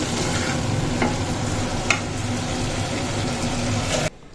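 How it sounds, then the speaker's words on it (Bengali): Black cumin seeds temper in hot oil in a pan, a steady close crackling sizzle with a couple of sharper pops and light stirring clinks, cutting off abruptly near the end. "কালো জিরে ফোড়ন দিয়েছি"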